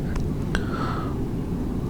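Steady cabin hum of a Boeing 787-9 Dreamliner cruising over the Java Sea, a smooth constant rumble with a couple of faint clicks.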